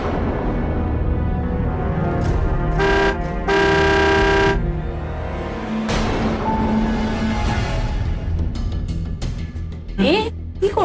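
A car horn honks twice in close succession, one short toot followed by a longer blast, loud and near, with soft voices and background sounds around it.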